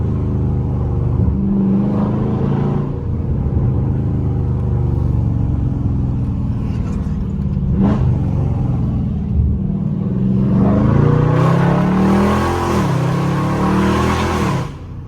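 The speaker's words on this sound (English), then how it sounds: "But that car is loud." A loud Dodge Scat Pack engine revs hard while the car cruises through city streets, its deep rumble rising and falling in repeated surges, with a strong burst of revving near the end.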